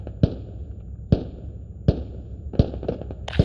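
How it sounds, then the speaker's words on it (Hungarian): Explosions go off in the video game Squad: a series of five or six sharp, loud blasts at irregular intervals, each a sudden crack with a short thudding tail over low background rumble. "Robbantom."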